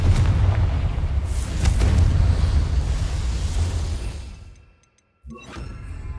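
A Confringo fire spell from the Hogwarts Legacy video game erupts in a loud, sustained booming blast with crackling debris, fading to near silence before a second sharp burst of rumble near the end.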